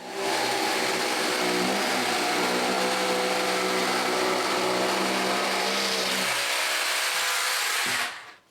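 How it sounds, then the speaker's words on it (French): A jigsaw cuts steadily through a wooden door panel, a loud continuous buzzing drone with a slight drop in pitch midway, running alone for about eight seconds before stopping abruptly. "C'est le temps de sortir la scie sauteuse."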